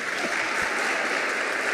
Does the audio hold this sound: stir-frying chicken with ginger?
no